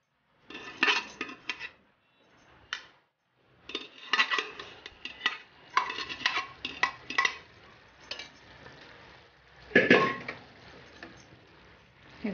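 Cooked Bhogichi Bhaji, a Sankrant mixed vegetable dish, is scooped into a kadhai with a metal spoon. Scrapes and clanks come in irregular bursts with short quiet gaps between them.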